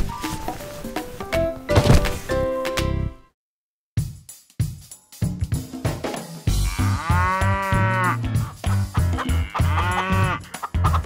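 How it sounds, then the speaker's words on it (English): A cartoon cow moos in a children's nursery rhyme about farm animals, with drawn-out lowing calls over bouncy music and other animal sound effects. "Here a moo, there a moo, everywhere a moo moo."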